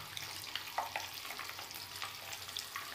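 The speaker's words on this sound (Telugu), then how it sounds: "కారం కూడా లైట్గా వేయించుకోవాలండి" Chili powder and salt fry lightly in a pan for curry, giving a steady soft sizzle with faint crackles and stirring scrapes throughout.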